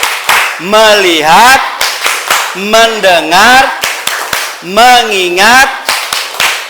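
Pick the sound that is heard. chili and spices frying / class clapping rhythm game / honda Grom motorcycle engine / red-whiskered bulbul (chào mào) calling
class clapping rhythm game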